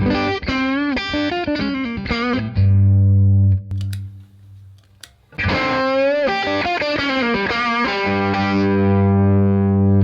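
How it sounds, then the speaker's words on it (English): Clean bass guitar tone played through a pedal rig, a loud run of plucked notes, then a long sustained low note, a short pause, and another run ending on a held note. "So here's my regular bass tone."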